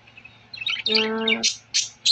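Close, bright budgerigar chirps and warbling tweets come in quick bursts, with a short buzzy harmonic call in the middle and no talking.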